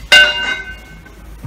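A heavy, high-quality hand bell is struck once, giving a loud, sharp, close ring that decays quickly into a short shimmering tail, with a faint knock right at the end.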